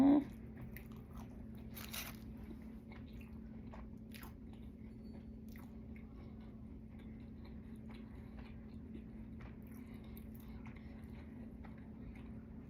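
Crunchy bites and chewing of a soul food taco in a tortilla shell, with a sharp crunch at the start and repeated small crunches and mouth sounds, up close, over a low steady background hum.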